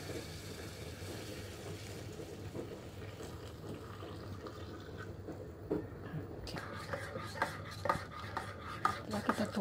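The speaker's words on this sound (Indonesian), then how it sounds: "Setelah kita tuangkan airnya tadi yang panas, yang benar-benar mendidih ya, kita aduk-aduk." Boiling water is poured into black Lampung coffee and then stirred, a close hissing, splashing flow that grows into clinking, scraping stir sounds near the end, with faint voice in the background.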